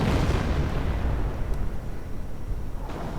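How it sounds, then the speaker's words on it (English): An artillery barrage in a World War II strategy game, a dense, loud, rumbling wash of distant explosions with a few sharper cracks inside it. "Artillery raking the Allied front lines, forcing them a bit back."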